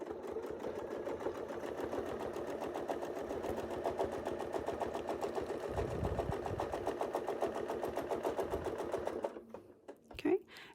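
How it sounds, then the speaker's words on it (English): A sewing machine stitches around a fabric circle, running with a rapid, even mechanical rhythm for about nine seconds before stopping, while a voice talks over it. "I'm going to sew on the circle that I made"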